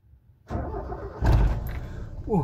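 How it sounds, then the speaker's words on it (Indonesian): A 1995 Mazda E 2000 2.0 with a carburetor and five-speed manual cranks and catches, a rough burst of engine noise rising mid-clip and settling into a steady idle, with brief voices nearby. "mobil karbu tuh emang ciri khas banget nyalain gitu"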